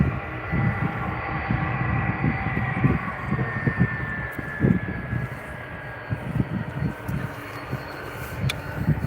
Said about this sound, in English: Got an ATR coming in. I think it's Aer Lingus.